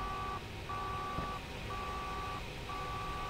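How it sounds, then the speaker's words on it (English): Low frequency alarm in a coal power plant in the video game INFRA, a repeating electronic tone sounding in long steady pulses with short gaps, four bursts over a humming industrial background. "Low frequency alarm."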